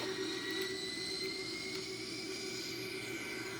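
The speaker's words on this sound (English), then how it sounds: "I'm gonna advance the thrust levers all the way up to the takeoff go around" Airbus A340-313X jet engines in a flight simulator spooling up toward takeoff thrust, a steady, loud, continuous roar with a sustained whine, no voices over it.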